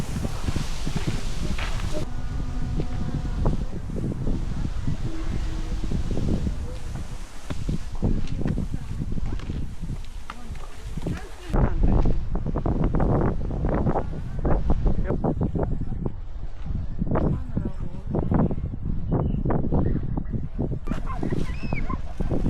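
Strong wind buffets the microphone outdoors in a forest recreation area near Tohamsan, Gyeongju, with steady rumbling gusts throughout, while people talk over it.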